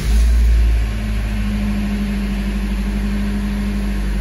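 A Mitsubishi Pinin engine cranks with a short, loud starter burst, then catches and settles into a steady, even idle hum close by.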